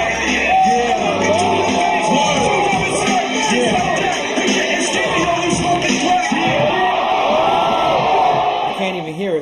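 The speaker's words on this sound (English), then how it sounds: "Because people are screaming in the crowd." A loud crowd at a freestyle rap battle yells, whoops and shouts continuously, with voices layered over the din throughout.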